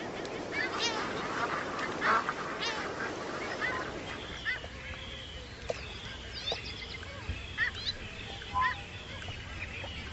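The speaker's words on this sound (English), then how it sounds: "As many as 140 million seabirds flock to Alaska's coast for the summer" Seabirds gather in huge summer numbers on Alaska's coast, and a dense, layered chorus of honking and squawking calls rises from the colony for the whole stretch, overlapping steadily at moderate distance.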